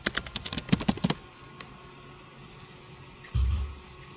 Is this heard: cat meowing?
no